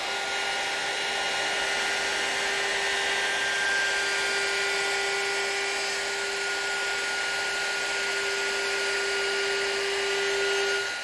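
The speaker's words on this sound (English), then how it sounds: "I've installed a 1/4 inch roundover bit in my router" A router fitted with a 1/4 inch roundover bit rounds over wooden edges for a mission style bed, a steady high-pitched motor whine running continuously and fairly close with no talking.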